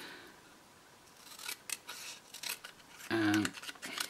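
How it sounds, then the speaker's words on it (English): Sizzix scissors from a paper sculpting kit trim a printed card sentiment to size: faint scattered snips, then one louder crisp cutting burst near the end, with no talking. "I'm going to trim my sentiment to size using my scissors from the lovely paper sculpting kit"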